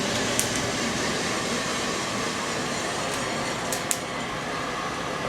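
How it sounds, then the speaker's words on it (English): A 2 kg home coffee roaster's cooling fan runs at full speed just after the beans drop, a loud, steady, unbroken whoosh of air that fills the whole moment, with a couple of faint clicks. "we're gonna start the cooling and the mixing"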